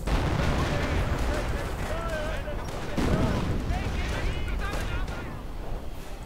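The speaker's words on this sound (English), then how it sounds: "Artillery going in." Artillery barrages and gunfire rumble through a WWII strategy game battle, a dense continuous roar of distant booms and crackling shots with a voice talking over it.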